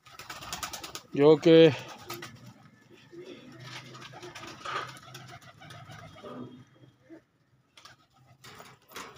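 Pigeons newly brought from Layyah coo softly in the background while someone talks over them, with one brief louder bird call near the start.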